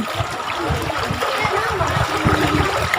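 People wade through a river in the Philippines, water splashing and sloshing around their legs in a steady, irregular churn, with voices chattering faintly underneath.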